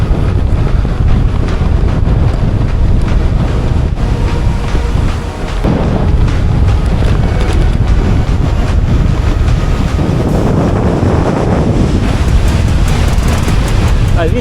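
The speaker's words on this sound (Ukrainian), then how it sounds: "вітер шаленіє, дерева розгойдує." Strong wind roars steadily into the microphone on a bicycle ride along field paths toward sandy cliffs, a loud continuous buffeting rumble with gusts swelling and dropping throughout.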